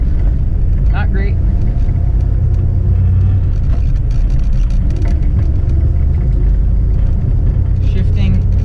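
A big-engined Oldsmobile 442 with a manual gearbox and heavy clutch rumbles steadily while driving, a loud low drone under continuous road noise with a few brief higher squeaks.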